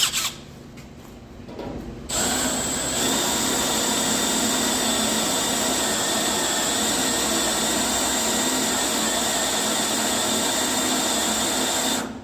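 After a few faint knocks, a power drill countersinking screw holes in a metal dash kit for an 88-94 OBS truck spins up and runs as a loud, steady, high whine for about ten seconds, no voices.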